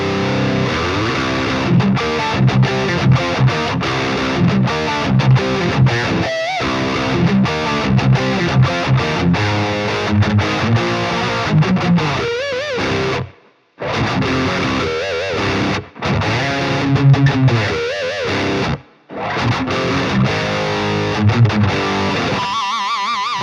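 Crunchy distorted electric guitar in an 80s Marshall-style rhythm tone chugs out a tight, loud riff with short palm-muted stops and brief silent breaks between phrases.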